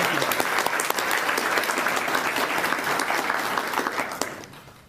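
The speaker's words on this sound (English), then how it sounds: "One more round of applause for this group." Audience applause for a group of young musicians at a youth human rights awards ceremony, a dense steady clapping from a full room that holds for several seconds and then fades at the end.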